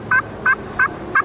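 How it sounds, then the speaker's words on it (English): Four soft, evenly spaced yelps from a slate turkey call played with a wood striker, clear and close with short gaps between them. "really soft slate calls with wood strikers"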